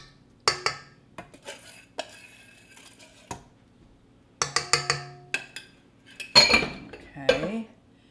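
A utensil scraping and clinking against a mixing bowl of walnut pie filling in a kitchen, a series of short scrapes and taps separated by pauses, close and moderately loud.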